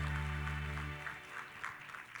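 Audience applause at an awards luncheon, a soft, even patter of many hands clapping at a distance over a low room hum, fading slightly toward the end.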